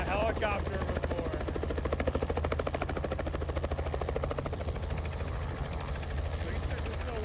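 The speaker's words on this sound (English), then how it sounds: "I've never been in a helicopter before." A helicopter's engine and rotor drone loud and steady throughout, with a deep low hum and a buzzing whine, at a lake in Alaska; people talk over the noise.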